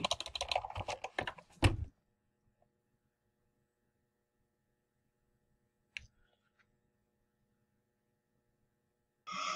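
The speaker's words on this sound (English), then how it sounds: "She's typing." Someone types quickly on a computer keyboard, with a burst of rapid clicks lasting under two seconds. A long quiet gap with faint mains hum follows, then a lone click and a brief final patter of keys.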